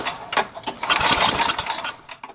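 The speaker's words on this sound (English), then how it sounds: "What happens is I'm going to try and start it." A Tecumseh snowblower engine is cranked and sputters without catching, giving an uneven burst of chugging and rattling that swells and fades over about two seconds, close by with no talking.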